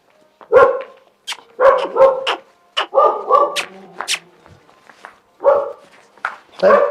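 A dog barks repeatedly in short, irregular bursts, fairly close and loud, with a few higher yips between barks.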